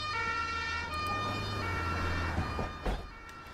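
A wailing ambulance siren in the OMSI 2 bus simulator game holds steady and close over low engine rumble, then cuts off near the end, leaving brief clunks and road noise.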